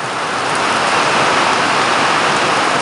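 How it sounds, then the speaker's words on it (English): Steady heavy rain pours down outdoors, a dense continuous hiss of drops hitting surfaces, loud and close throughout with no talking. "Now I got to run through the rain to get to it."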